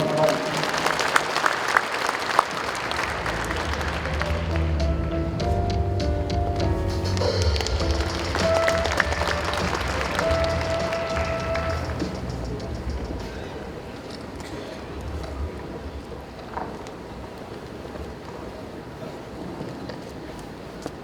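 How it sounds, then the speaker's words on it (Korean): Audience applause at a centenary commemoration ceremony, many hands clapping in a large hall, strongest at first and thinning later, with some background tones and scattered sharp taps. "큰 박수로 맞아주시기 바랍니다."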